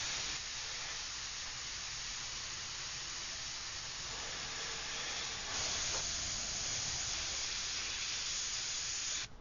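Steady, even hiss of paint spray laying down the background of a Cybergirl artwork with biomechanical flames, close and continuous with no pauses.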